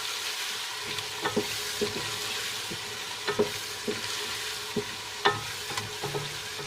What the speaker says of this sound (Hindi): और अब मैं इसे अच्छे से मिक्स करूँगी